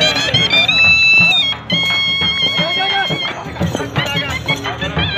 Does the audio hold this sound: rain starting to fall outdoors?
no